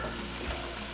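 Garlic and the white parts of green onions frying in melted butter and oil for hibachi shrimp fried rice: a steady, dense sizzle that holds evenly throughout without a break, and no voices are heard over it.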